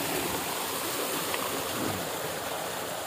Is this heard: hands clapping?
no